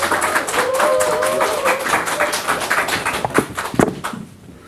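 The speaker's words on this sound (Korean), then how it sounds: "네, 여러분 큰 박수 부탁드리겠습니다." Audience applause at a mayoral candidacy press conference, a few seconds of clapping with some sharper close claps, dying away at the end.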